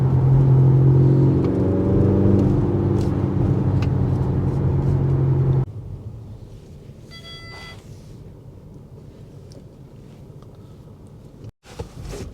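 An Audi SQ5 engine at full throttle roars loud and close with rising tones as the automatic gearbox downshifts, then cuts to a much quieter low hum with faint whirring.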